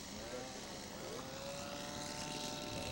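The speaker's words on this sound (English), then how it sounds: "coming in on a crosswind landing here. You can see him crabbing. Flaps down." A scale model aircraft with flaps down comes in on a crosswind landing, its propeller drone steady and fairly distant across the whole stretch under broad outdoor noise.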